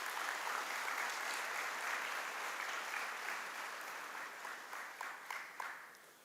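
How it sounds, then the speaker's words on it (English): A large audience at a college freshers induction programme at VIT Chennai claps continuously, the applause full at first and slowly thinning into scattered claps near the end. "Let's give a big applause to that gentleman."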